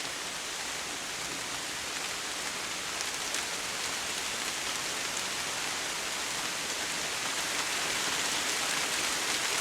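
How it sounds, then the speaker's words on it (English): Steady rain pours outside a wooded wolf den site in New England, a dense, even hiss of drops on surfaces lasting throughout with no pauses or voices. "It needs to rain harder now."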